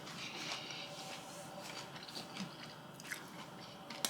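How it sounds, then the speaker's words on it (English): Someone bites into crunchy fried fish cakes, giving soft, close crunches and chewing noises that are faint and scattered over a low room hiss. "you can hear the crunch, you probably can hear the crunch"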